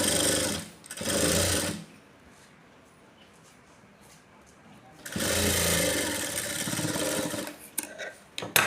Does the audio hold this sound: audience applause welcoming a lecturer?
no